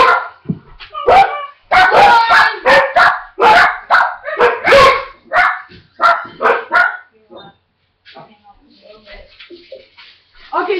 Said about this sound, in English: Dogs were barking.